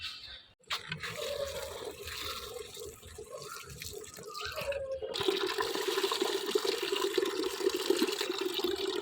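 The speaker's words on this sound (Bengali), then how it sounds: "গাছগুলোতে জল দিচ্ছি" Water pours from a hose or can onto potted plants in a rooftop garden, a continuous splashing rush that grows steadier and fuller partway through.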